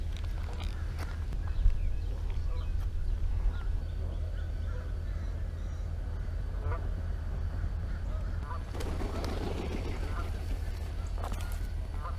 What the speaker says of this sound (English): Look at all these geese, dude.